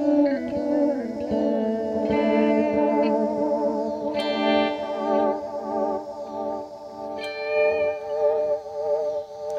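Electric guitar played through an Earthquaker Devices Disaster Transport delay pedal, sustained notes wobbling with chorus-like pitch modulation and trailing echoes, loud and continuous with no talking.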